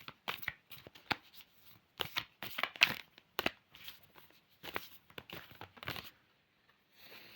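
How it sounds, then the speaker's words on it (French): Tarot cards are shuffled in quick, crisp bursts of riffling and slapping, close and fairly quiet, with brief pauses between handfuls. "Je vais les mélanger pour en tirer une. J'adore mélanger les cartes."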